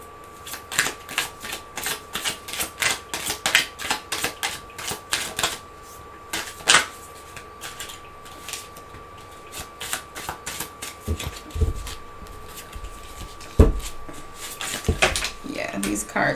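Oracle cards are shuffled by hand in a steady run of crisp riffling flutters and paper slaps, with a few louder knocks and card handling sounds under talk in a quiet indoor room.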